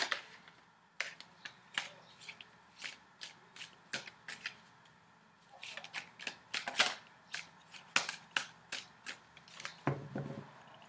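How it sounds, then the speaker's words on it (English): Tarot deck being shuffled and cut by hand, a steady run of crisp riffling card snaps and flutters, close and fairly quiet, with brief pauses between bursts and no talking. "I'm going to cut the cards in just a few more seconds."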